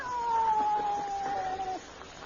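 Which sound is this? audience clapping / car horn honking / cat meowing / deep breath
cat meowing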